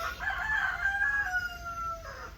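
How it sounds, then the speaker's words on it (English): A rooster crows loudly and nearby, one long drawn-out cock-a-doodle-doo that rises and then trails off, with no voices over it. "let the cock-a-doodle-doo say amen"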